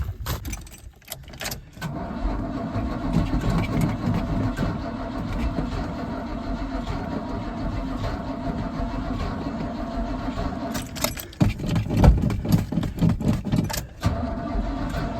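Engine of an old square body farm truck cranking and catching, then running at a rough steady idle, close and loud, with jangling keys and clatter near the start and again late.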